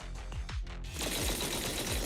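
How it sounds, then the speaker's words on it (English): Rapid heavy booms in a rolling barrage, low and rumbling, followed by a wash of noisy debris and blasts continuing; no talking. "That was the sound of a heavy cannon?"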